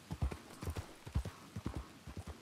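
Horse hooves clip-clop at a steady walking pace in the Red Dead RP video game, a soft, even rhythm of hoof falls with no talking.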